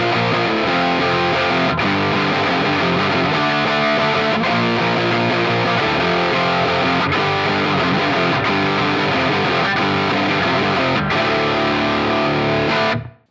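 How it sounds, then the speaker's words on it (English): Heavily distorted electric guitar through a Marshall-in-a-box style distortion pedal set to the 100 watt position, played continuously and loudly, thick sustained chords with a few brief breaks, ending abruptly. "That is already a super ripping classic distortion sound"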